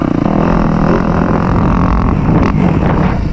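A 2025 Yamaha YZ250F dirt bike revs hard while being ridden, its loud, raspy four-stroke engine roaring continuously up close, with no voices.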